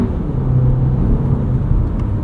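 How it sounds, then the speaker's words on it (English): 2024 Volkswagen Tiguan S with front-wheel drive and an 8-speed automatic, a steady low engine drone and road rumble from inside the cabin while driving, with a subtle change in engine note as it shifts. "8-speed shifts pretty quickly."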